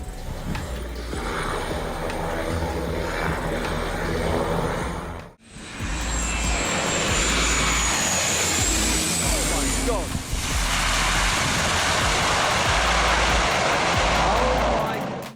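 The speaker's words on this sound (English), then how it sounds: "Those pilots deserve at least 1 week's vacation in the Maldives after this heavy wind cross landing" An airliner lands in heavy crosswind with a loud, sustained engine roar and rushing wind that swells and shifts across several cuts. Voices are present alongside the noise.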